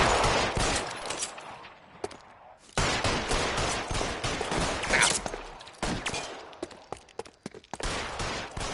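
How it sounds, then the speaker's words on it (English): Rapid bursts of gunfire aimed at a fleeing suspect in L.A. Noire, loud volleys of repeated shots broken by short pauses. "I shot him so many times going up the ladder"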